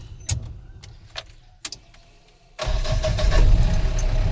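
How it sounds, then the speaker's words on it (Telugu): A Mahindra Bolero's engine cranks and catches at about 2.6 seconds after a few faint clicks, then settles into a steady, loud, close idle rumble that holds to the end. "ఇంజన్ స్టార్ట్ అయింది."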